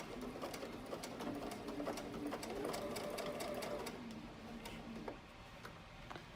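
Sewing machine back tacking through face mask fabric, a close, rapid mechanical ticking of the needle running steadily for several seconds, then slowing and stopping.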